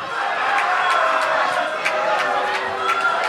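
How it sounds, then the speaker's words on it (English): At a high school boys basketball game, Salem against Winnacunnet, the crowd keeps up a defensive chant: a dense roar with rhythmic beats, under a commentator talking. "A defensive chant started in the crowd."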